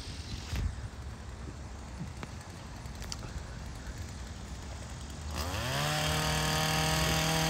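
A chainsaw is operated outdoors. Distant, rough noise comes first, then at about two-thirds through the engine revs up into a loud, sustained whine that stays steady to the end.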